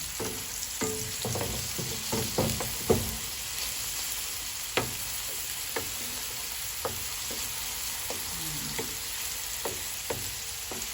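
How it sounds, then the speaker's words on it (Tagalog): Onion and garlic sautéing in a pan for pork kare-kare, a steady hiss of frying with scattered clicks and scrapes of a utensil stirring, close and fairly loud, with no talk. "Lutuin muna natin maayos yung ating sibuyas at ang bawang"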